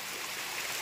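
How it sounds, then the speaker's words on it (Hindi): Water pours down a waterfall at Dudhnath Pahad in Dhubri, a dense, steady rushing hiss close by, alone. "ऊपर से बहके आ रहा है पानी"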